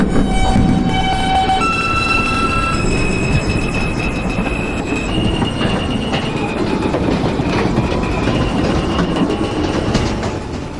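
Queensbound R160 M local subway train on the Myrtle Avenue Line in a Roblox game, rolling steadily with continuous rumble, wheel squeal and high-pitched whining tones throughout, loud and close with no speech.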